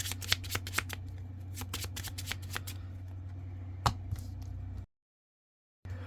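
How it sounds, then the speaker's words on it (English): Playing cards from a Magic: The Gathering deck being shuffled up close, a rapid run of crisp riffling snaps for several seconds, then silence and one brief final rustle. "We'll discard and shuffle."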